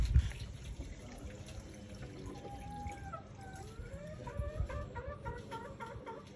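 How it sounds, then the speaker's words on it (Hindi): Water being poured and changed in a fish tank, a steady close pouring and gurgling under background chicken clucks and bird calls, no talk. "यहाँ पे मछलियों का पानी चेंज कर रहे हैं"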